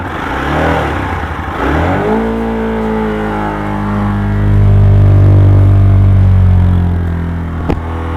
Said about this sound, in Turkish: gaz verdiğimde nasıl bir ses çıkıyor onu da görün diye